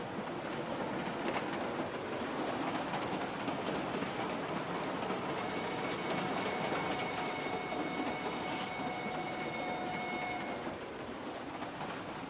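A steady, muffled rumble of a train running along rails, with faint rhythmic clatter and a dull whine throughout.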